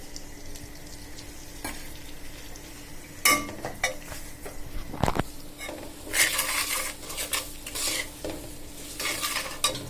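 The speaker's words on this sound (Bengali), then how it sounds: "এটা ভালোভাবে তেলে ভাজা হয়ে যাক, কষে যাক" Onions, garlic and meat spices sizzle and fry in hot oil while a utensil stirs and scrapes the pan, with occasional clinks of metal.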